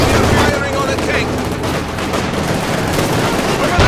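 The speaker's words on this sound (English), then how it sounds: "Enemy firing on a tank!" Dense, steady gunfire rattles through a Company of Heroes 2 battle at Stalingrad's rail station, with overlapping machine-gun bursts and rifle shots, loud and continuous throughout with no break.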